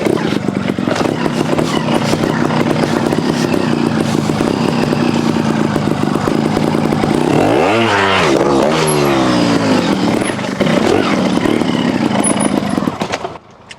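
A 2023 Sherco STR 300 trials motorcycle revs hard close by, its engine climbing and falling in sharp sweeps through the rev range over a steady loud idle, with no talking.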